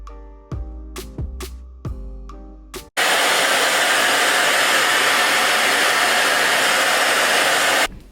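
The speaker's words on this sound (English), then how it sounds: "take these curls and diffuse them" A hair dryer fitted with a diffuser dries a curly hair wig: several knocking thumps first, then the dryer switches on into a loud, steady close-up roar that runs unbroken for about five seconds before cutting off.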